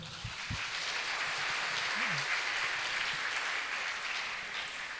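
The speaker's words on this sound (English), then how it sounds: "Can we have another round of applause for us, sir?" An audience at a golden jubilee talk applauds after a session, giving a sustained, even round of clapping that carries evenly and stays at one level, heard alone without talk.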